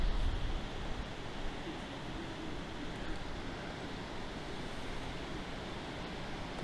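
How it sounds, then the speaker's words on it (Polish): Strong wind blows across a fishing lake, a continuous broadband rush that is loudest at the start and then settles into a steady roar with no speech. "O, teraz się zrobił dosyć duży wiatr."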